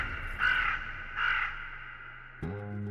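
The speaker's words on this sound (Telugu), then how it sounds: "కాకి ఈరోజు ముద్ద పెట్టలేదమ్మా?" A crow gives two clear, separate caws against a quiet background, followed by a short tonal sound near the end.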